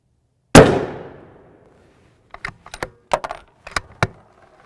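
A single loud .308 Winchester rifle shot fired through a suppressor into a gel block, a sharp blast with a decaying tail, followed by several small metallic clinks and rattles.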